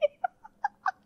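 A cat makes five short, odd chirping calls in a quick uneven series, close and fairly quiet against near silence.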